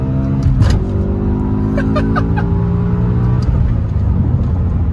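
A 2007 BMW M6 accelerating hard at full power in second gear, its engine note rising steadily in a loud, continuous in-cabin drone with a rumbling low end and whirring overtones, heard alone without talk.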